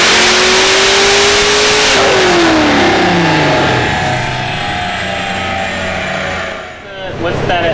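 A turbocharged Pontiac Trans Am engine pulls hard through first gear, its pitch climbing in a loud, close, sustained run before easing off.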